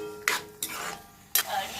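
Taro leaves (kochu shak) being dried and stirred in a pan, heard as three brief scraping strokes of a utensil against the pan with a soft sizzle fading between them.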